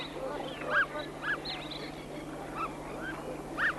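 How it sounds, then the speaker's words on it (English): Pygmy geese on an Australian lagoon or billabong give several short, soft honking calls at intervals, each a brief nasal note, over a steady low hum and quiet outdoor background. "Pygmy geese live in small flocks that seldom leave their lagoons and billabongs"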